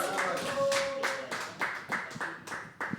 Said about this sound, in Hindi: Keep clapping till he comes.